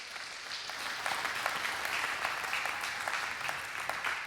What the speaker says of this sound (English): We can clap for that one.